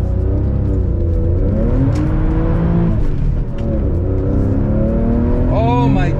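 Porsche 996 911 engine with its Helmholtz resonator bypassed, heard from inside on a test drive: a steady loud drone with rising and falling revs through the gears, voices talking over it.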